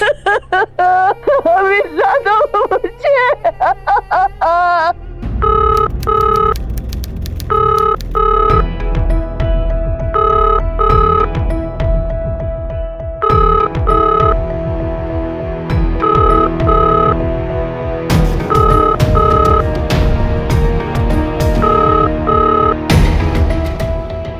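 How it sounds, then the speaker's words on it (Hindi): An outgoing phone call rings out as a repeating pattern of evenly spaced ringback tones. The tones run for about twenty seconds after a brief voice at the start. "बेल जा रही है।"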